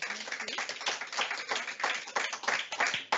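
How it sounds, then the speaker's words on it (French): Audience applause at the close of a French book talk with an author, a steady patter of many hands clapping close by for about three seconds, with a faint voice briefly beneath it. "Vous pouvez l'applaudir."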